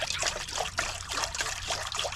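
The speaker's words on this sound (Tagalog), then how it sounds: "Lagyan natin yung tubig, pakulo lang tayo." Water is poured into a cooking pot to start a boiling broth with ginger, a steady close trickle and splash running throughout.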